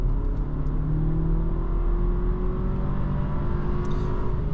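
An Audi A4 Avant 45 TFSI Quattro engine accelerates steadily, its rising hum loud and continuous throughout, with road and wind noise beneath.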